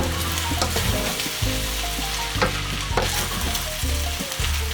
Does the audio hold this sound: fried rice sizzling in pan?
yes